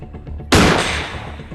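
A shotgun fires in the Granny horror video game, a single loud close blast that cuts sharply over faint background tones and decays over about a second.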